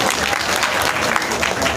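Crowd applause for donors at a Sant Ravidas satsang gathering in Kurar village, Kaithal, a steady dense clapping that fills the whole moment without a break.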